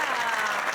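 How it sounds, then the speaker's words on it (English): A crowd claps steadily in a dense burst of applause, loud and continuous throughout. "Give him a round of applause."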